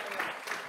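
A short burst of audience applause at a regular board meeting, a dense close patter of clapping hands with no voices.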